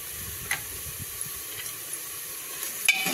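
Spinach with ginger garlic paste sautéing in a pan, a steady soft sizzle with a few light scrapes and taps from stirring, close and fairly quiet, no talking.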